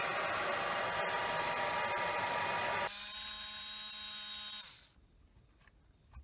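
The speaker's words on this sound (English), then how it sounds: "Do we put the hairdryer on here now to try and get these screws off" A hair dryer blows loud and steady nearby, heating a vintage Protech Nitro Fun .12 RC car's parts to loosen screws, its pitch shifting partway through, then it switches off and leaves faint room noise.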